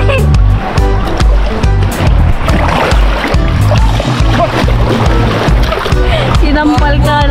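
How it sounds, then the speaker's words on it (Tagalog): Sea waves splash and slap against a small boat or canoe, loud, repeated irregular splashes over a constant water wash, with voices talking at times. "Sinampal ka ng alon."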